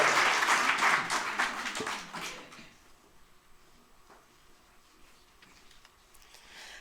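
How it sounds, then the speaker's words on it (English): An audience at a master's graduation ceremony applauds in a dense burst of clapping for about two seconds, which then fades away into a quiet hall with a few faint knocks. "Please shout, scream, and cheer along."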